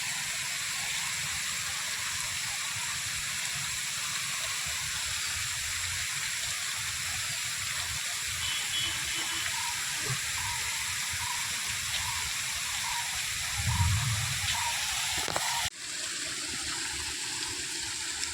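Water fountain splashing in a large public park in Bhubaneswar, a steady broadband rush of falling water that holds constant throughout, fairly close, with a brief louder burst near the end.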